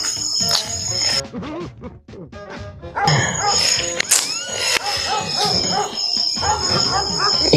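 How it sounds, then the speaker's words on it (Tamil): A dog barks on a farm, with several sharp barks mixed into busy background sound. Insects chirp steadily and a rumble like a passing train runs underneath. A pause comes early, then the barking carries on at fair volume. "இந்த நாய் வேற எதுக்கு கத்துதுன்னே தெரியலையே."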